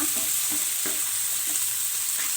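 Onions and soya chunks frying in a pan with salt added, stirred with a steady sizzle beneath a series of scraping strokes roughly every half second, close and moderately loud, with no talking.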